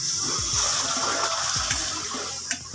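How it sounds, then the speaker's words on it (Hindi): A glass of milk pours steadily into besan (gram flour) halwa in a pan, a continuous liquid gush and sizzle close up with no talk. "अभी मेरे पास है 1 गिलास दूध, दूध इसमें ऐड करूंगी।"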